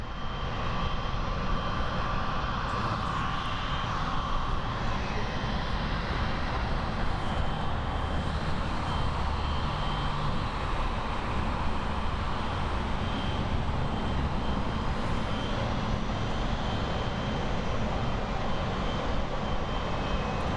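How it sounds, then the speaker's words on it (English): A Boeing 777 jet airliner rolls past close by at Frankfurt Airport, its engines a loud, steady roar and whine that holds throughout, with no talking. "Boeing 777 FBT. What a beautiful Beauty coming out right at us."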